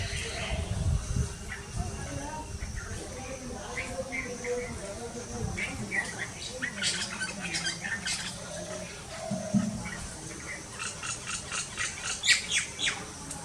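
Myna birds call with harsh squawks and quick chirps, some in rapid bursts, over outdoor ambience and occasional low rumbles.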